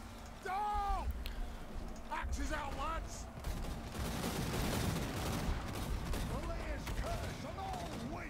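Units firing guns in the battle game Total War: Warhammer 2: ragged volleys of gunfire crackle continuously beneath someone talking, with rising tonal calls breaking through now and then.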